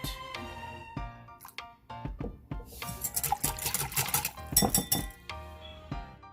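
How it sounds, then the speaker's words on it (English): A whisk clinks briskly against a bowl, mixing orange zest with vanilla and orange extract for hot cross bun dough: rapid metallic tapping and scraping that grows busier and louder midway, close up, with no talk. "Give it a whisk."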